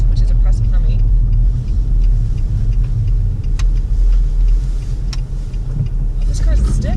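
A manual stick-shift car rolls along with a deep, constant engine rumble and road noise from inside the cabin, while people chat over it.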